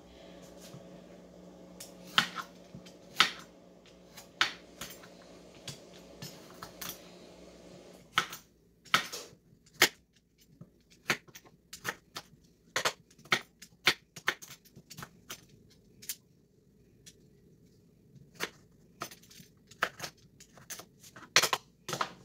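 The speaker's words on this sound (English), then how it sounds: "And I will just continue doing that with all the rest of these pumpkin pieces until I get them all peeled." Pieces of fresh pumpkin are peeled with a vegetable peeler in a kitchen, giving quiet, sharp scraping strokes in an irregular rhythm, close by and faint, with a low hum in the first few seconds.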